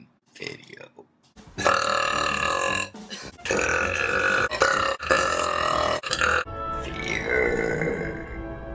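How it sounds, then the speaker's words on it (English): A woman lets out a series of long, loud, deep burps close to the mic, three or four drawn-out belches separated by short pauses, with a fainter sound at the start. "Burp time video."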